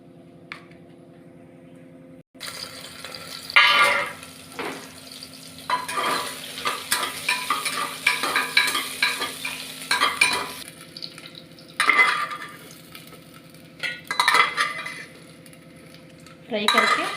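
Ginger and cumin stirred and fried in a pan, a quiet start then steady sizzling broken by repeated scraping strokes of a utensil against the pan, close and fairly loud.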